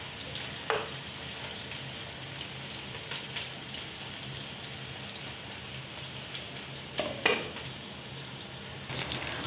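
Onions fry gently in a pan over low heat, a soft, continuous sizzle with a few faint crackles and utensil clicks, quiet and close with no talking.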